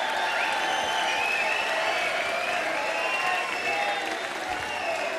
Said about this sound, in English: you can hear the reception you've got from this crowd